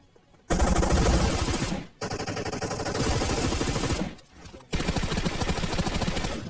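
Sustained automatic gunfire exchanged in a PUBG Mobile match, loud dense bursts nearly continuous with two short pauses, no talk.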